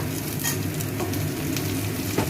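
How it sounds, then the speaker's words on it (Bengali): Dried red chillies, chopped onion and garlic tempering in hot oil in a pan for pointed gourd mash, a steady, dense sizzle and crackle that stays even throughout, with no talking. "শুকনো লঙ্কা আমি ফোড়ন দিচ্ছি, পেঁয়াজ কুচো দিচ্ছি, রসুন একসঙ্গেই দিয়ে দিচ্ছি"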